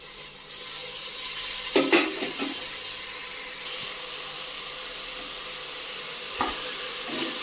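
Boiled cluster beans go into a pan of cooked tomato curry, with a steady low sizzle and a few brief stirring clatters near the start and again toward the end.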